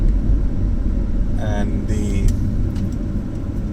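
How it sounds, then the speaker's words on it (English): A 2015 BMW 328i in comfort mode accelerates, heard as a steady low cabin rumble of engine and road noise with a voice talking briefly over it. "The car picks up really fast"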